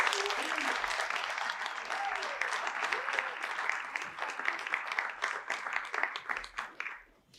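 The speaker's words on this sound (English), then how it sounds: "Big round of applause." Sustained crowd applause at a high school awards night, steady dense clapping from an audience that fades out toward the end, with some voices mixed in.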